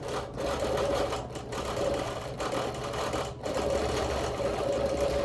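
A sewing machine running steadily while background quilting in circles, a continuous close mechanical whir with brief pauses and slight speed changes throughout.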